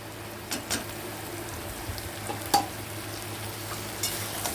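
Chopped ridge gourd (nenua) fries in a pan with turmeric, giving a soft, steady sizzle broken by occasional light clicks and taps of stirring.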